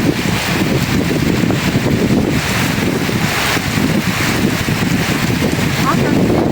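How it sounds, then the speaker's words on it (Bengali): A wind and rain storm sweeps a pond bank, with a loud, continuous roar of gusting wind buffeting the microphone and rain rushing underneath throughout. "যেমন বাতাস তেমন বৃষ্টি"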